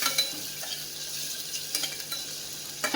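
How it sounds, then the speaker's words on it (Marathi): Chopped onion with a spoonful of ginger-garlic paste sautéing in a pan for vegetable pulao, a soft steady sizzle broken by a few light scrapes and stirring clinks, close and fairly quiet with no talking. "ही देखील कांद्यासोबत व्यवस्थित परतून घेऊयात"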